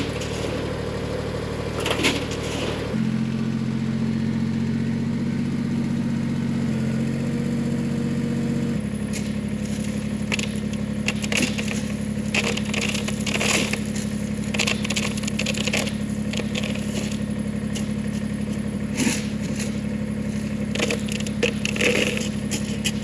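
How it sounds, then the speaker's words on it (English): A tractor engine runs steadily with a deep drone, shifting load partway through, while gravel is dumped into a ditch, with scraping and rattling bursts of stones over the continuous motor. "We have a load of gravel that we're going to dump down into our ditch"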